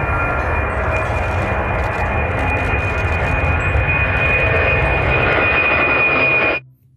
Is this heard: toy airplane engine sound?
yes